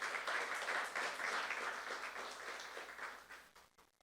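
A church youth-group congregation applauds during a sermon, with a broad, even wash of clapping that holds steady and then tapers off toward the end.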